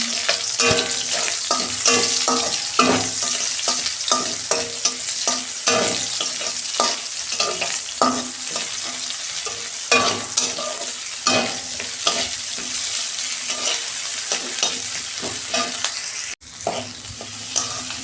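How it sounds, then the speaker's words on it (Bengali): Onions and nigella seeds sizzle steadily in hot oil in a pan while being stirred, a dense continuous frying hiss with scraping stir strokes close by, no talking. "তেল দিচ্ছি কড়া, কালো জিরে দিচ্ছি, পেঁয়াজ দিচ্ছি"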